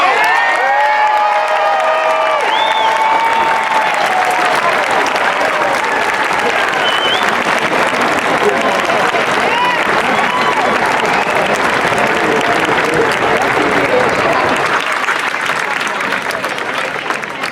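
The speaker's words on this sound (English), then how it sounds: "A round of applause, please, once again." Loud, sustained applause with cheering and whoops from a large crowd at a San Francisco mayoral inauguration. The clapping builds early and holds for about fifteen seconds before thinning.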